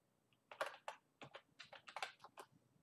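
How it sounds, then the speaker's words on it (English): Names being typed on a computer keyboard, a quick irregular run of crisp, close key clicks in short bursts, quiet and with no talking. "I'm just going to type in a bunch of names"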